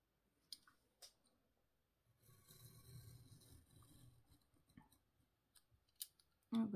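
Scissors snip through the centre of a paper pop-up card: a few crisp, close cuts spaced apart, with a softer stretch of rustling paper in the middle, all faint and without speech.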